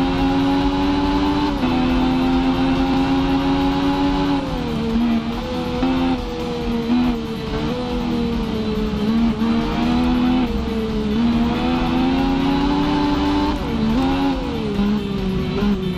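Motorcycle engines race in the video game RIDE, a loud sustained whine that rises and falls with gear shifts and throttle changes, steady and close throughout with no talking.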